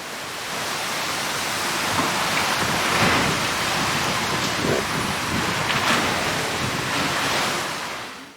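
Storm rain and rough sea waves are heard from the open deck of the Cunard cruise ship Queen Victoria, a loud, dense roar of surf and wind with rain hiss swelling and easing, no voices.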